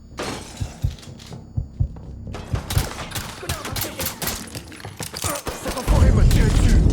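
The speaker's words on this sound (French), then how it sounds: "Cet enfoiré m'a tiré dessus." Gunfire rattles in the video game Mafia III, with rapid bursts of shots and sharp cracks layered with shattering impacts, building toward a dense, loud barrage at the end.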